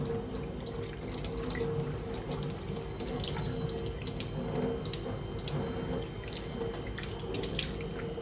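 Running tap water splashes continuously over goat tripe being rinsed clean, a steady gushing stream with small drips and splatters, close and unbroken, with no talking.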